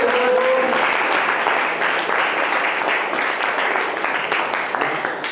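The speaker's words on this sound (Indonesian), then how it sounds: "Tepuk tangan untuk teman-temanmu yang" Applause from students in a classroom, loud continuous clapping from a group that carries on for over five seconds and tapers slightly toward the end.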